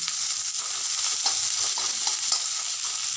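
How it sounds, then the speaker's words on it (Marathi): Chopped onions fry in a pan for a village-style chicken gravy, giving a steady, even sizzle with occasional stirring scrapes, close and continuous without talk. "जो कांदा आपल्याला पूर्णपणे लाल होईपर्यंत भाजायचा आहे।"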